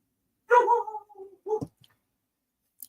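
A dog close by gives a short run of vocal noises, a drawn-out bark or whine followed by a couple of quick yaps, and then silence.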